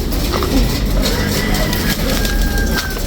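Pigeons cooing close by in a loft, soft throaty coos over a steady low background hum.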